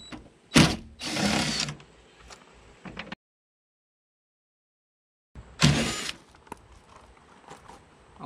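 Hand ratchet backing out 10 mm bolts from a Nissan Rogue door panel: sharp, close clicking bursts and metallic handling noises, interrupted by a stretch of silence before another loud burst, no talking.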